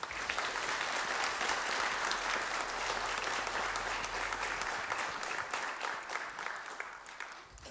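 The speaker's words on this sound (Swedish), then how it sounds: "Du fick ovanligt mycket applåder faktiskt." Audience applause at a Christmas concert held by a Tornedalen music club, dense sustained clapping filling the hall at an even level before gradually thinning toward the end.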